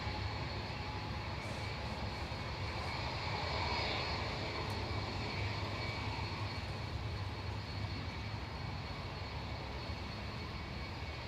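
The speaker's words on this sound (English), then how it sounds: "Aer Lingus Regional 3327 heading off to Dublin there. EIFAV operating that, a 10-year-old ATR 72-600." An Aer Lingus Regional ATR 72-600 turboprop, ten years old, departs Manchester Airport for Dublin, giving a steady broadband engine roar that stays loud and even for the whole stretch with no voices over it.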